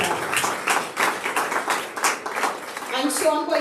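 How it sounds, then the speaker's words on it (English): An audience at a school award ceremony for retired staff claps for the honorees, a loose patter of hands with voices talking through it and a brief tonal sound near the end. "let us give our honorees another rousing round of applause"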